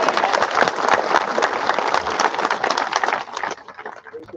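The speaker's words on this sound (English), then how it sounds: "Let's recognize them with a round of applause." Graduation audience claps in a dense, lively burst of applause that continues for a few seconds, then thins and fades toward the end.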